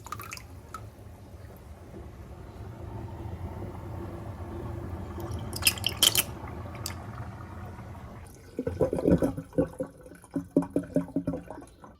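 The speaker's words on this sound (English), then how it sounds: "let's try the high flow drain test" A large Kraus kitchen sink drains at high flow, with soft running water that later turns into louder bursts of gurgling and slurping.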